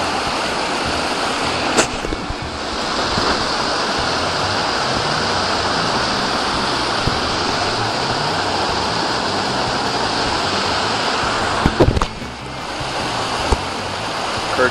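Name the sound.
small river rapids rushing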